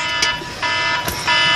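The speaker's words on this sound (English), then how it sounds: "that's my alarm off." An alarm buzzer goes off in a room, sounding as a loud, steady electronic tone that runs through the whole stretch, with brief louder bursts along the way.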